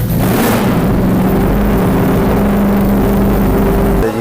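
A 350cc water-cooled heavy motorbike engine runs close and loud, holding a steady, throbbing low drone with a sustained hum throughout.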